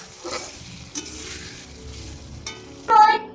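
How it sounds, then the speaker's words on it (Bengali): Spice paste of tomato, onion, ginger, garlic, cumin and chilli frying with salt and turmeric for a goat curry, a soft steady sizzle with a few stirring scrapes and a louder clatter near the end. "একটু নুন হলুদ দিয়ে মশলাটা কষিয়ে নেবো"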